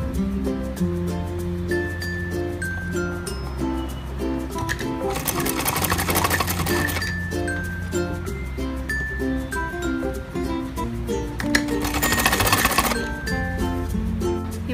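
Sewing machine stitching a designer kurti, a steady fast mechanical whir of needle strokes running throughout, with two louder bursts of faster stitching, while faint background music plays.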